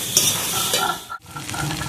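Potol (pointed gourd) sizzles vigorously in frying oil while a utensil stirs it, loud and near. The stirring breaks off for a moment midway, then the bubbling and scraping resume.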